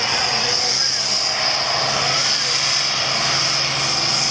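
A stock tractor at a tractor pull winds up its engine, a loud, steady, high-pitched roar holding without a break while a commentator talks over it.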